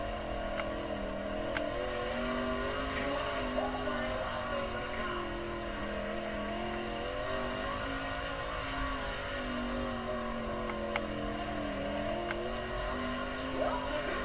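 Sprint car engine from the World of Outlaws '23 racing game droning steadily through a qualifying lap, a continuous mid-pitched roar with slight wavering pitch, heard alone without talk.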